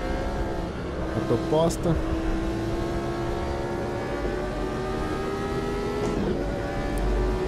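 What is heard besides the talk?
Formula 1 car accelerating at Interlagos in Automobilista simulator game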